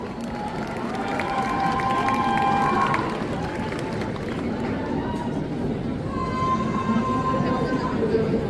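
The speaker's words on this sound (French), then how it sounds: "On les applaudit bien fort!" A festival audience at a cosplay parade claps and cheers amid crowd noise, while a loud announcer's voice talks over the applause much of the time.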